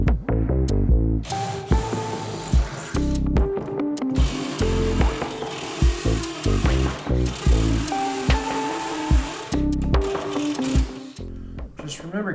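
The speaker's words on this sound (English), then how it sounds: "we'll go ahead and drill them out" Drilling holes for a trunk grill build in a welding shop, heard as choppy, loud mechanical bursts that start and stop repeatedly, with a busy rattling whir between pauses.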